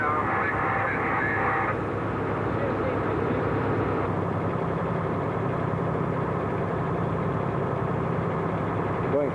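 A Northrop N9MB flying wing aircraft drones steadily overhead with a constant mid-pitched propeller engine hum, distant and unbroken throughout.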